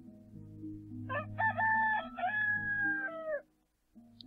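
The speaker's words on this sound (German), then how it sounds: "Der Hahn kräht." Rooster crowing in the strategy game Towns, one clear, loud cock-a-doodle-doo over a low droning game background, followed by a brief silence and a soft tone.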